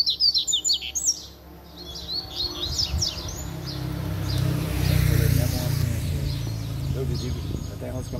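A coleiro, the double-collared seedeater, sings a rapid series of high, bright chirps up close for about a second, then fades under the low rumble of a passing motorcycle engine, with voices in the background.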